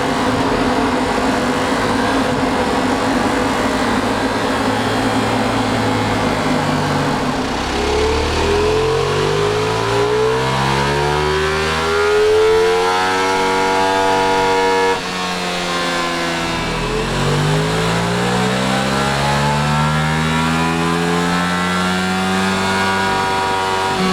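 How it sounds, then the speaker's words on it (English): A Ducati Multistrada V4 Pikes Peak on a dyno, its V4 engine revving repeatedly through long rising sweeps that climb to a loud high-pitched wail and drop back, near and alone. "Let's get it run up, let's see how Ducati have set it up at the factory"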